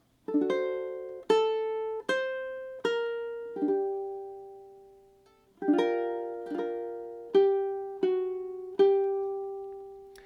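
A ukulele plays a short melodic phrase of single notes and small chords, each ringing and decaying cleanly, alone and fairly quiet.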